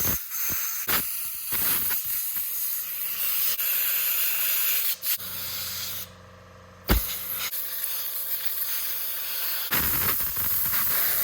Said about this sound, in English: I'm gonna use some carb cleaner if I have some here